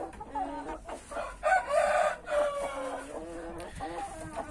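Chickens in a coop cluck and squawk in repeated bursts close by, busy overlapping calls without talk.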